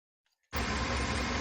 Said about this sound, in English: let's crank it up and see if the noise is gone.